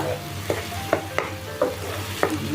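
Paneer and vegetables stir-frying in a pan, a steady sizzle broken by about five sharp scrapes and clinks of a spatula against the metal at irregular intervals, close and fairly loud.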